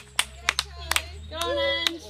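Scattered sharp hand claps, about a half dozen, ring out for Charlie, with voices cheering and calling in between.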